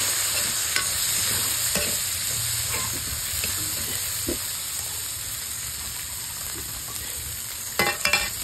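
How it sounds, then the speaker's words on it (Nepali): Garlic and ginger sizzle steadily in a hot pan while a spoon stirs and scrapes at intervals, close and continuous, with a few sharper clatters near the end and no talking. "यसैमा भुट्ने है यसलाई।"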